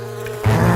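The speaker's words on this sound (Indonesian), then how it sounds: "Dari mana ini datangnya begitu banyak lebah di sini?" Many bees swarm around a sweet-smelling cooking scene, a close, steady droning buzz that swells louder and lower partway through.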